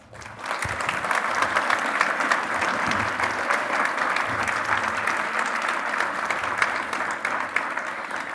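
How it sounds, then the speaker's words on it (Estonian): Audience applause at a fashion show, a sustained wash of many hands clapping at a steady level, fairly full and close, with faint crowd murmur underneath and no talking on top. "teeme neile suure aplausi"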